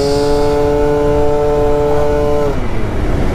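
An Aprilia SR 172cc scooter hums steadily up close, a sustained engine tone holding pitch before it drops as the throttle eases, with strong road and wind rush throughout.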